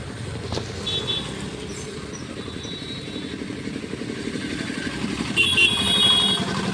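Street traffic passes a rainy bus stand, with motorcycle and car engines rumbling nearby, a horn sounding briefly, and the noise swelling as a vehicle draws closer toward the end.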